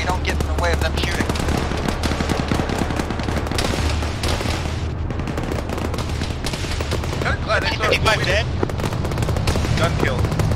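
Sustained heavy gunfire in the video game Arma 3 during intense urban combat, with dense overlapping rifle and machine-gun bursts and booms, loud and continuous throughout.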